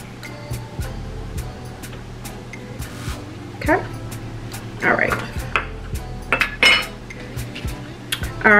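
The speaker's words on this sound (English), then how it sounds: "So I am going to do probably about two good scoops of the ice cream." Ice cream is scooped from a tub with a metal spoon, giving several close clinks and scrapes against the container, scattered unevenly over a low steady hum, with a person talking between the sounds.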